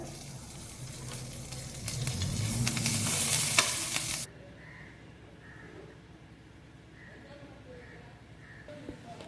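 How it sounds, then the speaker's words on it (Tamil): Mustard seeds, asafoetida and curry leaves crackle and sizzle loudly in hot oil in a kadai for radish thuvaiyal, a dense spitting burst for about four seconds that then drops to a quieter simmer. "கடாயில் எண்ணெய் நல்லா ஹீட் ஆகிடுச்சு கடுகு சேர்த்துக்கிறேன் கொஞ்சமாக பெருங்காயம் சேர்த்துக்கிறேன் கருவேப்பிலை கொஞ்சமாக சேர்த்துக்கிறேன்"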